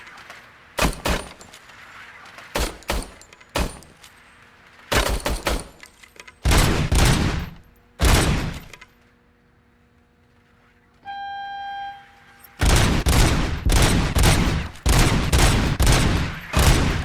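Service weapon fire in the Robocop video game, loud and close: several clusters of rapid gunshot bursts split by short quiet gaps and a steady electronic tone, then a long sustained barrage at the end.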